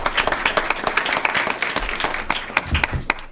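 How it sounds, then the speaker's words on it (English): An audience at a school board meeting breaks into applause, a loud, dense patter of many hands with sharper individual claps poking through, sustained throughout without speech. "another round of applause for those appointments"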